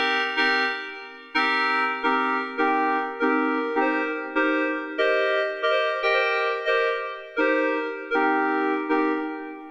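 Arturia MiniFreak synthesizer playing an FM tone at a low ratio with a hollow, square-wave-like timbre: a sequence of about a dozen loud, sustained notes stepping in pitch, each with a sharp attack and slight decay, with no talking.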